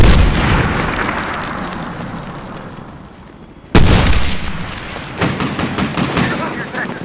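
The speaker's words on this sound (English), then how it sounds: "Grenade, get down!" A grenade explodes in Medal of Honor Warfighter with a sudden, loud, close boom, followed by bursts of gunfire in a dense battle soundscape. Voices call out during the action.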